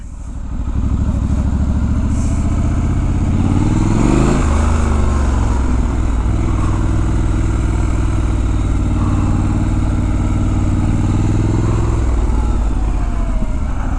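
A 2019 Triumph Scrambler 1200 XE rides along with a loud, steady engine drone close by, and the revs briefly rise and fall partway through over continuous road rumble.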